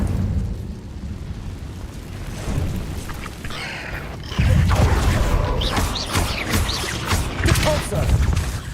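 Fiery blasting-spell explosions in the wizarding video game Hogwarts Legacy, several booming bursts rumbling through a cave fight, loud and close with crackling debris over a steady low roar.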